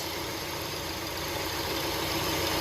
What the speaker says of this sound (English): It looks like this bearing is making a noise.